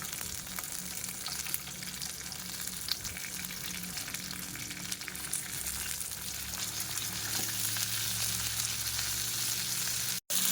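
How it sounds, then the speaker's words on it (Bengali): Pomfret, a sea fish, fries in oil in a pan, giving a soft, even sizzle that holds steady throughout, cuts out briefly near the end, and has no talking over it. "মাছগুলো দেখুন আমার ফ্রাই হয়ে গেছে"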